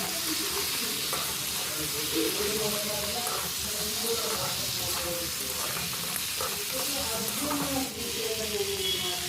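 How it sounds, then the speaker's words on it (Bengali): Sea crabs with turmeric sizzle and fry steadily in a pan, a continuous crackling hiss broken by the scrape of stirring, with faint background noise and no clear talk. "তো দেখতেই পাচ্ছেন কত সুন্দর কাঁকড়াগুলো ভাজা হচ্ছে"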